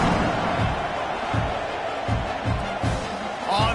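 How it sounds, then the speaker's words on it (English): A college football stadium crowd in NCAA 26, Arkansas against Oklahoma, buzzes loudly after a score, a continuous roaring murmur with a few sharper swells and thuds rising out of the din. "this crowd is buzzing after that last score"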